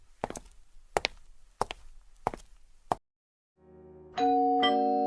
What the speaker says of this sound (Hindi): घर की डोरबेल बजाई